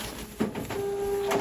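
A label printer feeding and printing a sticker sheet, with a mechanical clunk followed by a steady whirring motor tone and a soft sliding feed, close and fairly loud.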